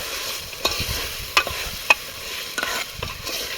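Boiled green peanuts are stirred in a hot tempering in a pan, giving a soft steady sizzle with a few sharp scraping clicks of the spoon against the vessel.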